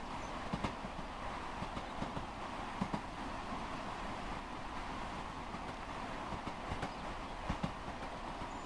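A passenger train in the Train Sim World game runs the London to Reading line toward Paddington, giving a steady rolling rumble with faint periodic clacks of wheels over rail joints, continuous and even throughout.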